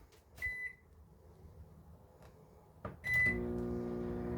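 A camper kitchen microwave oven gives two short beeps, with a soft click between them, then starts up with a steady low hum, close and quiet.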